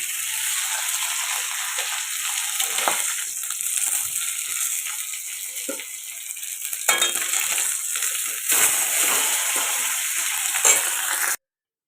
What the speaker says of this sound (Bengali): মাছগুলো আমার ভাজা ভাজা হয়ে গেছে এবারে তুলে রেখে দিব